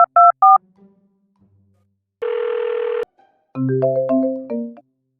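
A phone is dialled: a quick run of three keypad tones, a brief faint pause, then a sustained buzzing tone and a melodic ringback-like burst of tones, clear and close with no voices.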